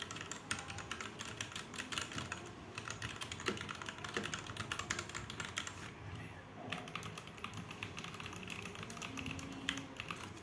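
Fast, steady typing on a Zifriend ZA 68 Pro mechanical keyboard produces a dense stream of crisp, close key clacks, quiet overall, with no speech.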